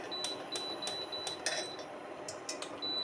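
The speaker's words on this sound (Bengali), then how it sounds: "দেখো তোমরা, আমি টিফিন বাটিটা বসিয়ে দিচ্ছি, কড়াইতে জল ছিল" A metal tiffin bowl set down into a wok of hot water for steaming a pumpkin-leaf lentil dish, producing a series of light metallic clinks and taps, faint and close, with a thin steady tone running beneath.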